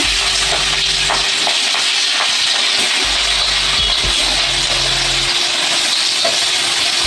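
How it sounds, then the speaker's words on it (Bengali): Potatoes frying in a pan make a loud, continuous broadband sizzle and hiss up close, with faint low knocks underneath and no voices. "আলু ভাজা হচ্ছে"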